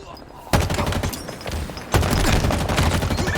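Rapid bursts of pistol gunfire in the video game Halo Infinite, two dense volleys of loud close shots that start abruptly and mix with game effects.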